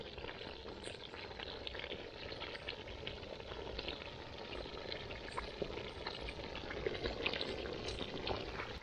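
Chicken simmers in a little water in a pot over an outdoor fire in a farm field on a cold night, cooked village style; a steady, close bubbling hiss runs throughout with no talk.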